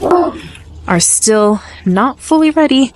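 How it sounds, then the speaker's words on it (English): A neighbor's dog barks in a garden, several loud, close yips and barks in uneven bursts that overlap with a person talking. "I'm sorry about the dog barking."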